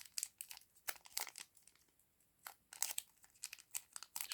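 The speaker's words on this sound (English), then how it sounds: "I will be using scissors." Irregular snips and crinkles of scissors cutting through Pokémon card collection plastic packaging, close and fairly quiet, in short bursts with brief pauses.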